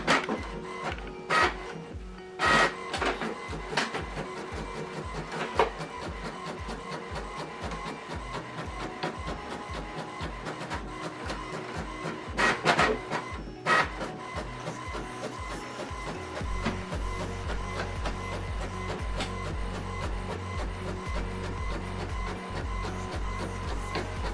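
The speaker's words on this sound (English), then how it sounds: "Now this document is printing." A Canon or HP inkjet printer printing a colored single-sided document: repeated mechanical feeding clicks, carriage whirs and rhythmic chugging passes, close and continuous, with a louder steady drone toward the end.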